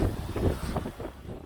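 Strong wind gusting at a mountain-top observatory on Balwangsan in winter, a short burst of broadband rushing and buffeting close on the microphone.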